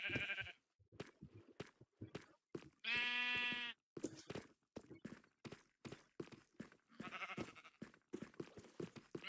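Minecraft sheep give a long run of quick bleats, repeated nasal calls packed closely together, with one sustained drawn-out bleat in the middle and no one speaking.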